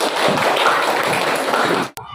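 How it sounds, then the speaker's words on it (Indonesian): Classroom of schoolchildren clapping together for a classmate, a dense, steady burst of hand claps close by that stops abruptly near the end, followed by a brief quieter moment. "Tepuk tangan dulu ya untuk Puput"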